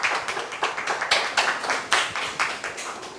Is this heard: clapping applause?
yes